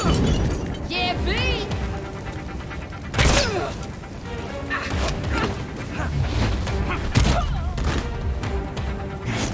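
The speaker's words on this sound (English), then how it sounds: "Enjoying the fireworks." Fireworks in the Gotham Knights video game burst and thud amid crashing, shattering game effects and music, with a voice talking over the noise.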